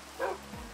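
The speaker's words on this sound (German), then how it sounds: "Von diesem langweiligen Nicht-Pokémon-Hund" A single short bark from a plain non-Pokémon dog in the Minecraft mod Pixelmon, brief and fairly faint over a low background hum, with a quick rising yelp at the end.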